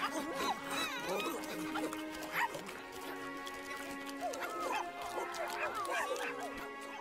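Cartoon dog yipping, barking and whimpering in short bursts over a steady music bed, with character voices talking in between.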